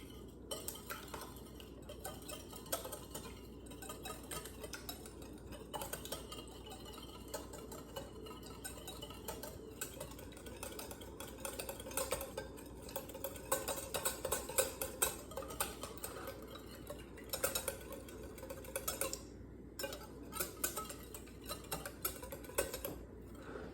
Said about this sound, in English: then we're going to take the whisk and whisk it.